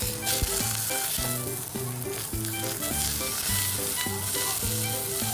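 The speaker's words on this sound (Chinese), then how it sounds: "开中火把表面煎至金黄" Blanched lamb shanks sear in a little oil in a hot pan over medium heat, giving a steady, close sizzle with a faint musical tone playing underneath.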